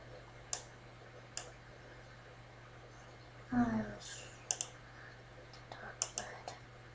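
Faint computer mouse clicks while working in Adobe Fireworks, a few sparse single clicks and a short cluster of quick ones, alongside a low steady hum and a brief rustle, with no talk heard.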